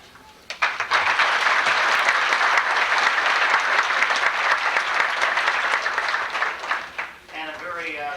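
A large audience bursts into sustained applause at a 1993 university graduation ceremony, dense clapping holding steady for several seconds before tapering off as a voice resumes at the end.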